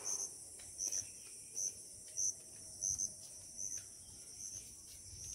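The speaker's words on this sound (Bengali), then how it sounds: "ঝিঝির ডাকগুলো শুনতে পাচ্ছ?" Crickets chirp in regular short bursts, faint and steady, around a village house garden with mango and rose apple trees, with no voices.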